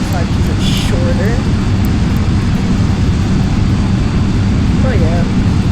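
Steady loud turboprop drone of a Cessna 208 Caravan taxiing in the X-Plane 11 flight simulator, a continuous engine roar with low rumble throughout.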